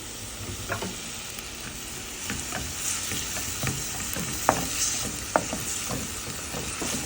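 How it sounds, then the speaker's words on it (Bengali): Onion and garlic fry in hot oil for a bitter gourd dish, giving a continuous sizzle with scattered sharp spatters and stirring knocks close by. "তেলটা গরম হলে আমরা পেঁয়াজ আর রসুন দিয়ে দেবো"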